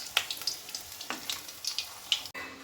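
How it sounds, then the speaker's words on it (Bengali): Chicken manchurian balls fry a few at a time in oil in a kadai over a medium-to-low flame, giving soft crackling pops and bubbling sizzle close by, with no talking. "তেলেতে দিয়েছি, বলসগুলো ভাজছি"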